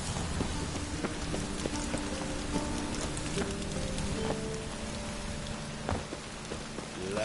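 Rain falls in a video game scene, a steady patter of drops on surfaces with scattered sharper ticks and faint background tones, moderately quiet and continuous without speech.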